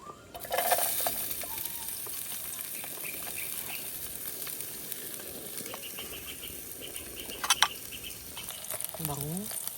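Eggs frying in a pan at a campsite, a steady crackling sizzle that runs throughout, with a few brighter clinks and stirring sounds and some faint background noise.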